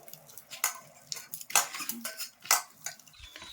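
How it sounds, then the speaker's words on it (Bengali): Boiled potato being mashed in a bowl for egg-potato fritters, with a utensil clinking and scraping against the bowl in several sharp taps and softer squishy strokes, close and without speech. "আলুটাকে চটকাচ্ছি, খুব ভালো করে চটকাতে হবে, দানা দানা যেন না থাকে"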